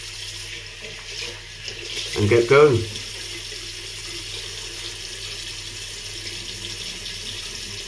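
A bathroom tap runs briefly into a sink to wet the face before shaving, a short burst of splashing water close by, with someone talking over the quiet room around it.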